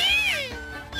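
A cartoon cat gives a clear, close meow with a rising-then-falling pitch, followed by a softer trailing note.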